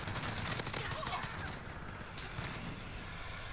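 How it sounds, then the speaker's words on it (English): Rapid gunfire crackles through an online match of the shooter game Modern Warfare, with several quick bursts clustered early and then a quieter stretch of background game noise. "That shotgun just should not be driving that far."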